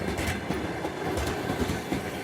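A train rolls past on a railway track, its wheels clattering in a continuous clickety-clack rhythm that fills the whole stretch at moderate distance, with no talking.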